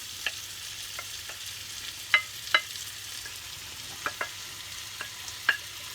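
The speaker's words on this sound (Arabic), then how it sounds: "نديرهم كاملين يتقلاو." Onion and vegetables frying in a pan for a seafood paella give a faint, steady sizzle, with a few sharp spoon clinks and scrapes scattered throughout and no talking.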